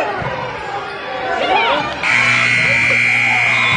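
A high school varsity basketball buzzer ends the first half in a gym with a loud, steady electronic tone sustained to the end, preceded by sneaker squeaks and crowd noise while an announcer talks.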